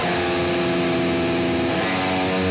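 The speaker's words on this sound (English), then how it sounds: "play those melodies with a distortion on an electric guitar" A heavily distorted electric guitar chugs through a dense, sustained rhythm riff, loud and saturated, with no other sounds.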